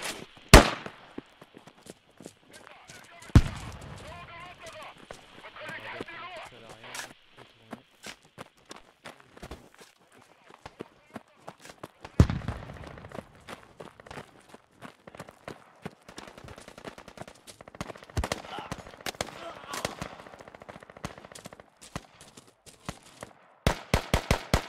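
Scattered gunshots and footsteps in the military shooter Squad, sharp isolated cracks at varying distances over quiet movement, with a quick burst of shots near the end.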